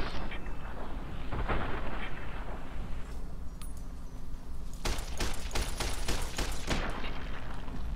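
Rifle gunfire in the video game Fallout New Vegas: an early sharp shot, then a loud cluster of rapid, cracking reports in the second half over a steady rumbling background.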